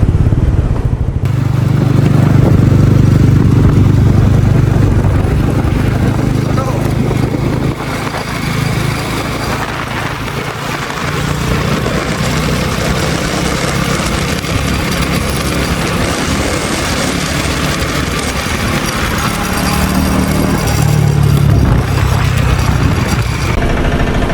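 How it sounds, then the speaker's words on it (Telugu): Steady motorcycle engine drone from an NS 400 ridden out of Gachibowli, Hyderabad, at the start of a road trip to Ananthagiri Hills, loud and continuous throughout with rising and falling throttle and wind rush, no talk. "సో ఇప్పుడు మనం వెళ్ళేది NS 400 మీద."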